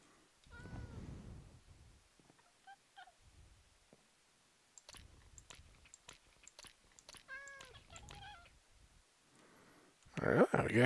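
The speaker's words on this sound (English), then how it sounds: "All right, we got cats." Cats in Minecraft give a few soft, scattered meows through the middle of the clip, faint and in the background, while someone talks quietly over the game sounds.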